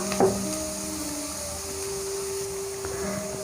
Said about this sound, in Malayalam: ഉപ്പ് ചേർത്തിട്ട് നമുക്ക് നന്നായിട്ട് വഴറ്റിയെടുക്കാം.